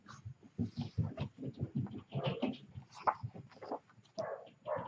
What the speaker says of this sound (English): those are my daughter's dogs barking